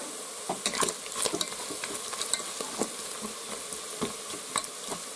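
Steady sizzling of duck meat and onion frying in a multicooker, with scraping and stirring clicks from a utensil in the pot, close and continuous.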